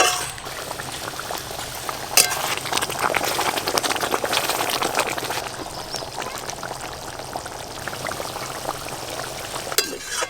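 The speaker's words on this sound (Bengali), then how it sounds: "কপ কপ করে এ ফুটতেছে" Curry with water for a pangas fish dish boiling in a pot at a village cookout, busy close bubbling and popping with splashy stirring bursts, steady throughout.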